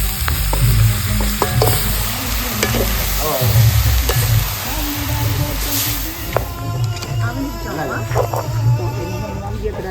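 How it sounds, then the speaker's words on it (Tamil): Shallots and green chilies fry in oil with a steady sizzle and repeated stirring scrapes, while a voice talks over the cooking throughout. "சின்ன வெங்காயம் பச்சை மிளகாயும் போட்டு வளர்க்குறேன்"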